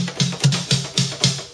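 Dry snare drum with no reverb, from a Steven Slate drum sampler in a metal mix: five crisp, evenly spaced hits in quick succession, each cut off sharply with no tail.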